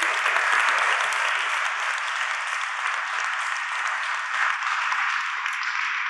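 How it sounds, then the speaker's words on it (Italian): An audience at a book presentation applauds steadily in welcome, dense clapping that stays at an even level from start to finish, with no voices over it. "un benvenuto e un applauso di benvenuto a Benedetta Civrario"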